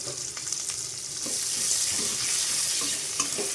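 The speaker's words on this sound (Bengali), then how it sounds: "পেঁয়াজটা কিছুক্ষণ ভাজা ভাজা করে নেবো" A large onion and green chillies frying in a pan after a five-spice and dried chilli tempering, an even close sizzle with occasional clicks and scrapes of stirring, no voices.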